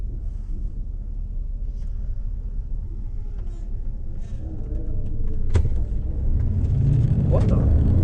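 A Cadillac Escalade engine rumbles steadily at a drag strip, building louder in the second half as the run begins, with wind buffeting the microphone and voices talking over it.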